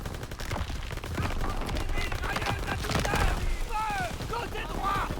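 Machine gun fire and battle noise roll on steadily in a Call of Duty WWII match, with soldiers shouting over the continuous gunfire.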